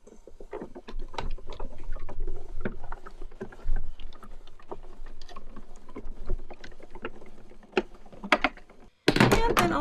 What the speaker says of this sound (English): I've got the coordinating die in place and I'm going to cut this out.